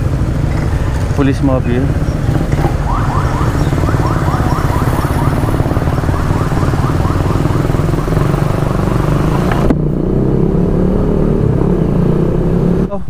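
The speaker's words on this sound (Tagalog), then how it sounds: "mag-start na yung motor kit namin" A motorcycle engine runs loud and close throughout, with rising revs and a rough, steady drone under someone talking, then the tone shifts as the bike moves off along a road in Cavinti, Laguna.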